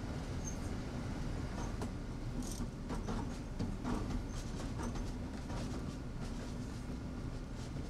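An Amtrak HHP-8 electric locomotive runs in Train Sim World on the Northeast Corridor to New York, producing a steady, faint rumble of rolling wheels and motor hum with a few light clanks, no voices.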